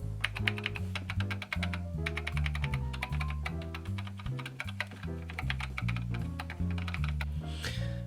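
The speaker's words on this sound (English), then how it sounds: "This is also a Cherry, and this is the keyboard of an Alphatronic P3" Rapid, steady clacking of keys on an Alphatronic P3 Cherry mechanical keyboard, close and continuous, with a low tonal hum running underneath.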